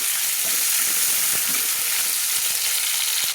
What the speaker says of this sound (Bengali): দিয়ে আমি তেলের মধ্যে কষিয়ে নিচ্ছি